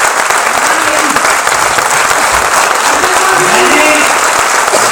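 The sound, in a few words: audience applause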